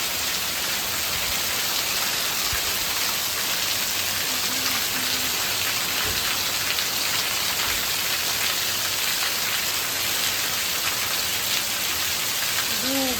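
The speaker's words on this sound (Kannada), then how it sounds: "ಜೋರು ಮಳೆ ಬರ್ತಾ ಇದೆ, ಹಾಗೆ ಗಾಳಿ ಕೂಡ ಬರ್ತಾ ಇದೆ ನೋಡಿ" Heavy monsoon rain driven by wind makes a steady, loud hiss of drops on surfaces, continuous across the stretch, with a few faint tonal sounds in the background.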